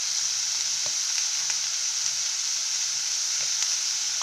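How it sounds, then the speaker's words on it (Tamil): Salted mixed vegetables fry in a pan in a village kitchen, giving a steady, close, even sizzle with faint stirring clicks and no voices. "இப்போ இதை ஒரு 2 நிமிஷம் நல்லா வதக்கிடுங்க"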